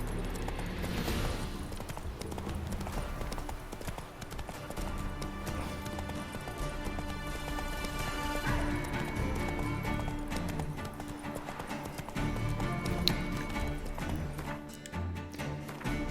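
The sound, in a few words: horse galloping in The Witcher 3 video game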